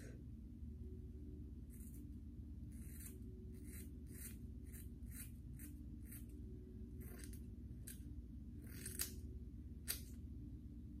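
Scissors snip through material in a string of quiet, crisp cuts, some in quick clusters and some spaced apart, over a low background hum.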